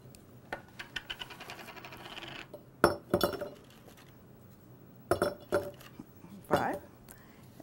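Oreo cookies are dropped one after another into a glass jar, making several sharp clinks and knocks spaced a second or two apart, faint and close in a quiet room after an earlier run of light clicks.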